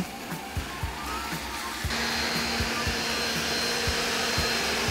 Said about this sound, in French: en mode normal, le Powerbot est légèrement plus bruyant que son prédécesseur